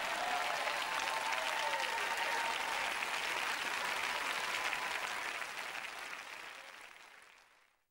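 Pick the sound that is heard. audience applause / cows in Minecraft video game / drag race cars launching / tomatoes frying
audience applause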